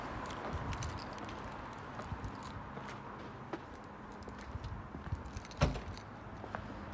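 Keys jangle faintly for a Volvo S90 in a quiet workshop, a low rattle with a few small clinks and one louder knock near the end.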